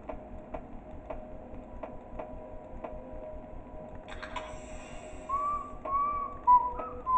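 A faint clock-like ticking keeps a steady pulse, then someone whistles a short, high tune over it, in the video game The Nightshift At Baldi's School House.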